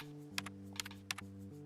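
Computer keyboard keys are tapped in a few quick, separate clicks, close and fairly quiet, over a steady low electronic hum while building in Rec Room.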